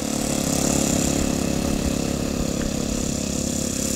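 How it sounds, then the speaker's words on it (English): Four-stroke model aircraft engine, a 65-size motor on an Extra model plane, running at a steady, even idle, close and moderately loud, with no voices. "Nice four-stroke motor, quiet."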